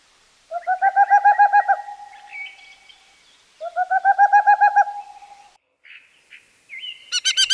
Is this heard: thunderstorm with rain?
no